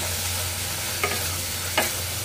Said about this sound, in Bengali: এখন এটা আমি ভালো করে কষিয়ে নিচ্ছি।